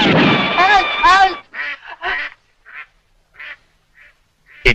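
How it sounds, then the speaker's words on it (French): A duck in a 1968 Western film quacks loudly and close, starting with a long, strained, voice-like squawk and then giving a string of short, spaced quacks that fade before a final sharp burst. "Mais enfin, où est mon canard?"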